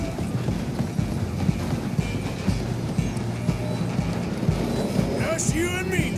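A steam-era train rolls along in Red Dead Redemption 2, a steady rumbling clatter of wheels over rail joints with rhythmic clicking, joined by galloping hoofbeats and a brief voice near the end.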